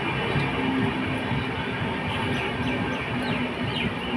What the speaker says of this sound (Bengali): তো দেখো ট্রেন যাচ্ছে যাচ্ছে যাচ্ছে।